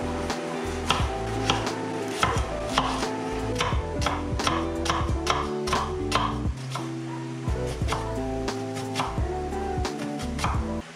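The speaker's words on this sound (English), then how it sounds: "That's a lot of chopping." A knife chops onions on a board in a kitchen. Fast, even taps repeat steadily under louder background music.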